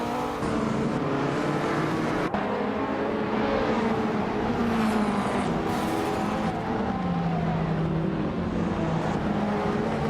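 Vintage supercars, including a 1987 Ferrari F40, race on a track in a video game, with continuous loud engine drone and shifting revs sustained throughout, no speech.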